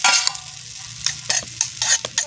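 Egg chow mein noodles being fried and tossed on a tawa, a steady loud sizzle broken by repeated rhythmic scraping strokes of a spatula, close up and without voices.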